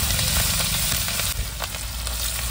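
Chilli and garlic frying in hot oil with whole spices for a truck-driver-style chicken curry, a steady close, loud sizzle with faint stirring scrapes throughout, no voices.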